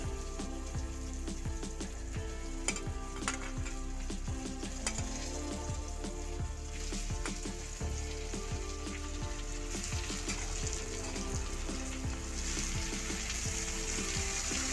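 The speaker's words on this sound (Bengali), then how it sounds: "সব রকম সবজি যোগ করে এবার একটু নাড়াবো" Mixed vegetables (carrot, green banana, papaya, ridge gourd, yardlong beans and bottle gourd stems) sizzle steadily in a pan for a cumin curry, with frequent scraping stir strokes over the continuous frying hiss and no talk.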